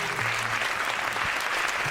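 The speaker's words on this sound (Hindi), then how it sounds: "जोरदार तालियों के साथ स्वागत कीजिए वैभव का।" A talent-show audience at a Kalakaar final round claps loudly to welcome contestant Vaibhav onto the stage, a thick, unbroken burst of applause throughout.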